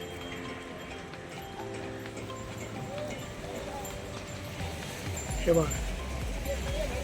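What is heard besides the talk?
bullock cart arriving, hooves clip-clopping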